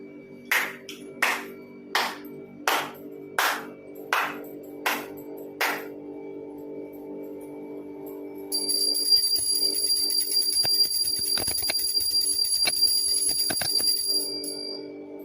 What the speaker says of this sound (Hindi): घंटी बजाई है